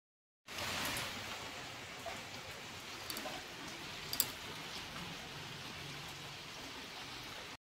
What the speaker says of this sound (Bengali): বৃষ্টি হচ্ছে, কী যে করি বুঝতে পারছি না